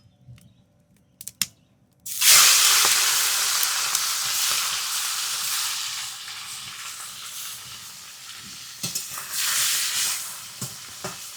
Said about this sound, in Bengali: এই গরম তেলে মাছগুলো এক এক করে দিয়ে দিই